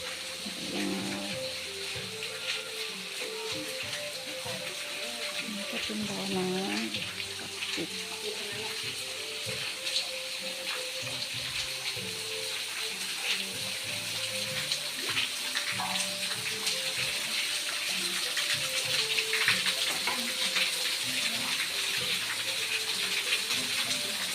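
A waterfall at the Phu Yot Ruay shrine rushes steadily throughout, a loud continuous splashing wash with a voice speaking faintly over it and some background music.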